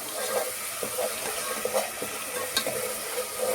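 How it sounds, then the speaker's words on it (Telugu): Spice paste frying in hot oil for a mud fish curry, a continuous bright sizzle with soft stirring scrapes and small pops, close and alone. "మనం పేస్ట్ చేసుకున్నాం కదా ఆయిల్లో వేయించుకున్నాము పేస్ట్ బాగా వేగాలి"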